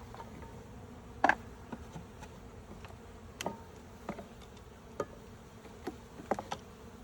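Faint buzzing of a few honeybees out of a package, with scattered soft ticks and taps over a quiet background.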